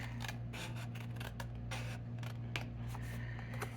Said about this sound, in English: I'm going to cut out a leaf.